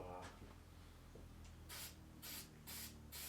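Spray can bursts of finish onto a kit-built 8-string guitar body, several short hissing sprays in a row, close and fairly loud, alone without talk.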